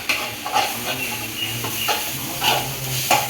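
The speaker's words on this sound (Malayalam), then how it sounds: "പച്ച സ്മെല്ല് പോകുന്ന വരെ ഒന്ന് ഞാൻ വഴറ്റാം ഇങ്ങനെ വഴറ്റാം" Food sautéing in coconut oil on a stove, with a steady low sizzle and intermittent scraping strokes of stirring at close range.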